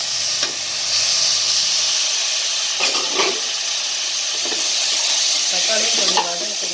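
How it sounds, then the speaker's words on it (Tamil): Tomatoes sautéing in a pan after onions for vada curry give off a constant loud sizzle and hiss, punctuated by a few scraping stirs of a spoon, with no voices. "தக்காளியும் கொஞ்சம் வதக்கணும்."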